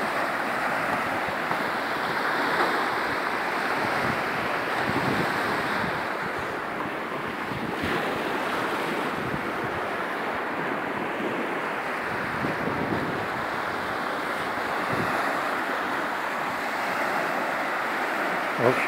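Baltic Sea surf on the Gulf of Riga washes ashore beside a lighthouse, a continuous broad rush of waves mixed with gusty wind buffeting the microphone.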